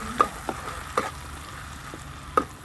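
Onions and chilies frying in a pan for dim aloo, a soft steady sizzle with a few sharp spatula scrapes and taps as they are stirred.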